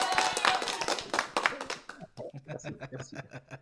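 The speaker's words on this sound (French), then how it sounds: "Allez, un petit coup d'applaudissements." A small group claps briefly at an outdoor table tennis event, with a burst of dense clapping that thins into scattered claps while voices talk and chuckle over it.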